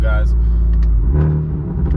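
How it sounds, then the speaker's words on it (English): A tuned Hyundai Elantra N with a new aftermarket exhaust rumbles low and steady nearby while someone talks over it. "I don't know if you guys can hear the exhaust right now, but I have a new exhaust on the car"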